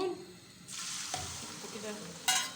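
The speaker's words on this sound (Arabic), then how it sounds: "هنروح بقى نقلي الطعمية دلوقتي" Taamiya, Egyptian falafel, frying in hot oil: a steady, moderately quiet sizzle that swells when more patties go in, with a brief louder crackle near the end.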